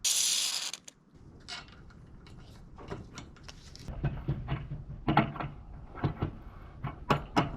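Close mechanical clicks and ratcheting turns, a series of short metallic creaks and taps as a hose is screwed onto a fitting held in a vise, after a brief lubricant spray hiss.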